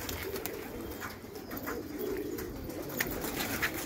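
Pigeons cooing softly as they peck at corn laid out to dry at a loft, a low, continuous murmur of coos and rustling with no voices.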